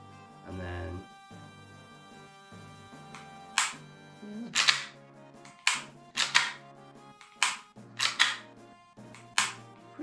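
Repeated sharp trigger clicks from a Tokyo Marui Glock 17 Gen 4 airsoft pistol during a dry trigger test, spaced irregularly and close up, with a brief low handling thump near the start.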